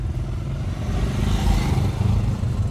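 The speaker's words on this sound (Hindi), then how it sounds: "पीछे एक बाइकर्स का ग्रुप आ रहा है" Several motorcycles from a group of bikers on a mountain road in Spiti draw closer, a steady low engine drone that builds slightly louder midway through, with some clatter mixed in.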